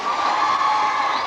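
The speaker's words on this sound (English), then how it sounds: "Can we have a round of applause" A crowd cheers and whoops steadily, a dense wash of voices and clapping, loud and continuous throughout.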